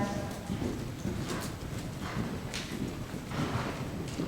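Horses cantering in an arena riding lesson, rhythmic muffled hoofbeats at moderate distance, steady throughout with faint voices in the background.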